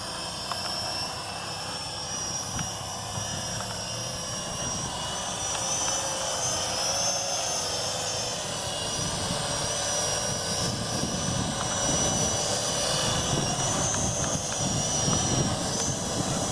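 A World Tech Elite Venom Pro GPS quadcopter drone flying nearby, its high-pitched buzzing rotor whine steady and fairly loud, growing slightly stronger as it drifts closer.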